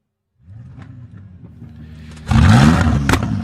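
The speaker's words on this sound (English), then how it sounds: "drivers, start your Ferrari engines" Ferrari Challenge race car engines at Daytona crank and catch with a low uneven idle, then one blares into a sudden loud rev with a sharp throttle blip, close and alone.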